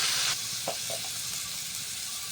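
Chopped tomato dropped into onions frying in a pan for Bengali-style butter chicken, giving a close, steady sizzle and hiss with a brief brighter burst at the start.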